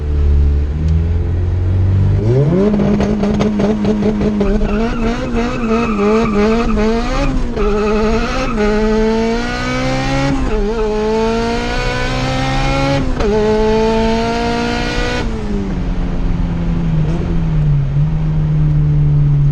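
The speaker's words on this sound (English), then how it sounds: "Just launch it like you would at the drag strip" A Honda car launches hard with heavy wheel hop. The loud engine revs climb through repeated surges, the tires chatter and squeal as the drivetrain shudders, and the car keeps roaring close by throughout.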